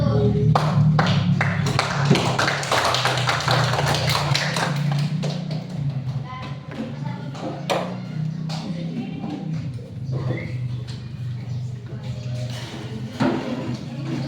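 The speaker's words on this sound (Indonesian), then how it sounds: "berikan tepuk tangan kelompok 1" A classroom group claps in a scattered, uneven patter that gradually thins out, with a low hum and some background voices.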